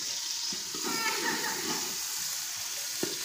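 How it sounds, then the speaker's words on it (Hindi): Sliced onions frying on their own until light brown, a steady close sizzle with a couple of light knocks, no talking heard. "अभी सिर्फ जाएंगे प्याज, दूसरा सामान बाद में जाएगा जब ये लाइट ब्राउन हो जाएंगे"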